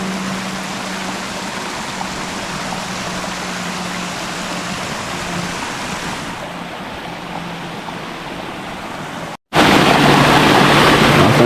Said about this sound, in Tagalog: umapaw na yung tubig oh